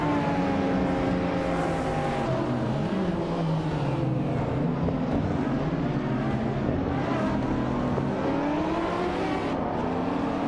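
Race cars in a racing video game roar continuously, their engine tones rising and shifting as several cars jostle for position. The steady, loud mechanical drone has no voice over it.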